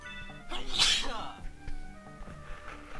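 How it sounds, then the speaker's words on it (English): A single sharp, loud sneeze bursts out close to the microphone early on, followed by quieter breathing while faint video game music and sound effects play underneath. "Gotta sneeze."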